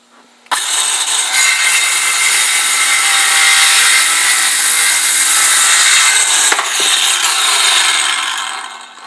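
A Ryobi 18V 5 1/2 inch cordless circular saw rips through wood in one long, loud, steady cut. It sounds close, with a brief dip in pitch near the end before the blade winds down.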